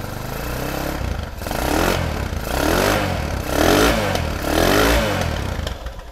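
A GL100 classic-style motorcycle engine idles and revs in repeated swells, rising and falling several times, close and loud with a clattery tone.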